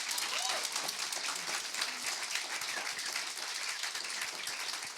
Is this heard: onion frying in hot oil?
no